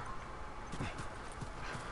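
Horses' hooves clip-clop in The Last of Us game, a few muffled, low thuds spaced irregularly beneath a steady hiss of game ambience.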